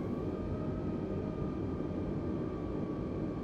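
Steady, droning aircraft engine hum from Microsoft Flight Simulator, a constant broadband roar with a faint high whine held evenly throughout, loud and alone with no voices.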